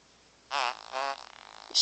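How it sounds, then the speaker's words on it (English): Two short synthetic fart sound effects from a phone prankster app, triggered by shaking the phone, play close and loud one after another with a brief gap, followed by a faint soft noise. "You shake your phone and it farts."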